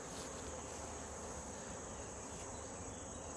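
Angry bees boiling out of a Saskatraz hive after a honey harvest, heard as a dense, continuous, faint buzzing hum with a steady high whine and no pauses.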